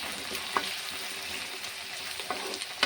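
Ivy gourd stir-fry with sesame stirred in a pan, a steady hissing fry with a few light scraping ticks from the utensil, close and moderately quiet, no voices.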